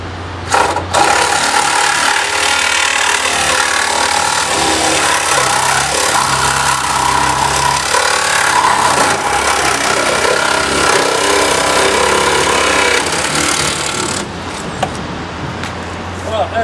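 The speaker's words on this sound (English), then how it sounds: "we're now going to have a go at cutting with this saw" A power saw fitted with a Lenox variable tooth blade cuts through a car during extrication training, a loud, steady, rasping grind that runs almost unbroken for about fourteen seconds before cutting off.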